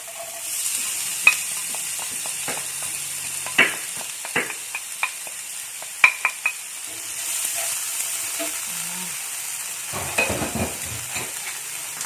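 Spices frying in a pan for shredded fried chicken with galangal seasoning sizzle steadily while a utensil stirs them, scraping and clinking against the pan in irregular taps up close.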